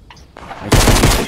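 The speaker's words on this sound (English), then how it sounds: "Hunting rifle." A hunting rifle fires in Fortnite, with a loud sharp blast erupting after a brief quieter lead-in and ringing out at close range.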